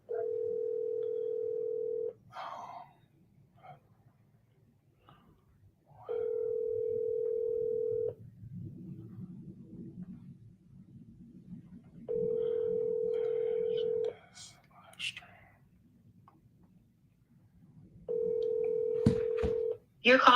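A steady telephone dial tone sounds in repeated two-second stretches, alternating with quiet gaps and brief clicks and beeps of a call being placed, heard close through a phone line.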